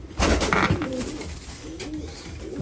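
English Trumpeter pigeons coo close by, several low, soft rolling coos in a quiet breeding loft.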